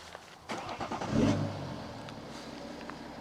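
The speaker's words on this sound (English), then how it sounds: "can we start the car up because now we're going to do a sound test" A BMW 640d engine cranks and catches at close range, a brief surge of rumble, then settles into a low, steady idle.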